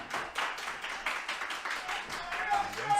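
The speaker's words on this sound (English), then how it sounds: "This crowd getting behind the King here." A wrestling crowd claps in quick, uneven bursts that swell and fade, somewhat distant, with faint voices mixed in.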